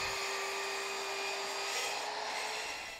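A power saw cuts steadily through wooden legs of a podium book stand, which are clamped against a straight edge. It gives a continuous, close, high-pitched whine with a fixed tone and holds for the full few seconds without any voices.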